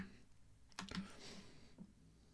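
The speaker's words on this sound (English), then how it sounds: "sort of like typing noises" A few quiet, quick keyboard clicks in a short burst, with a soft tap near the end, all fairly faint and close.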